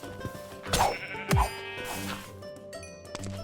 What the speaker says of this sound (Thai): เสียงคนฆ่าแกะ